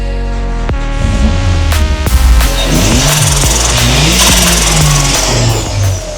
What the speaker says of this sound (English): So we need to get the car out of the garden.